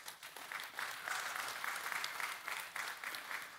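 A church congregation breaks into sustained applause, a dense, even wash of many hands clapping at a moderate distance, fairly quiet overall.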